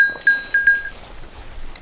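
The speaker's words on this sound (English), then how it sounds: "Love to hear goat bells." A small metal bell hung on a goat's neck gives a few soft, bright clinks, three quick rings close together, muffled against the animal's skin, then quiet farmyard background.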